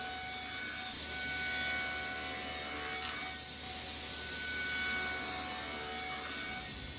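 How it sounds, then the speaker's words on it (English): Table saw cross-cutting wooden boards to length for plant stand arch supports: a steady, close whining saw drone with two swelling cut passes, loud and continuous with no talk. "Then I scooted over to the table saw with the completed template and used it to set a stop to cross-cut the boards"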